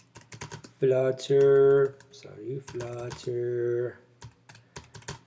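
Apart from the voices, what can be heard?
typing a command on a computer keyboard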